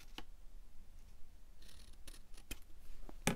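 Scissors snip through paper to form a journal pocket, a few quiet, sharp, separate cuts over a faint background, the last one closest and loudest, no speech.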